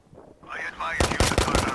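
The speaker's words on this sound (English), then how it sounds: "it's like one of the mounted MGs" A mounted machine gun in a video game fires a rapid burst of loud, close shots after a brief rising mechanical whine.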